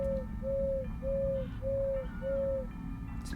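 An animatronic rooster in the horror game Crow Country gives five evenly spaced, tonal hoots, one after another, and then falls silent, over a low background rumble.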